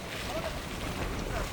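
Floodwater rushes across a road during a cyclone in Sri Lanka, a brief steady wash of broadband noise, fairly faint, with a voice in the background.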